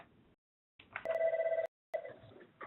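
A telephone rings in a meeting, giving a clear electronic ring burst of about three-quarters of a second between quiet gaps, with faint room sound around it.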